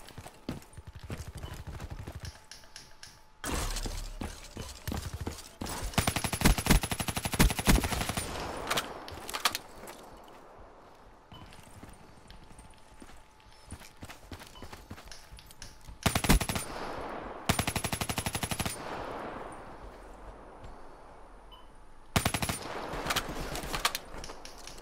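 Video game gunfire in bursts of rapid automatic shots, several clusters separated by quieter gaps, with a little talk in places.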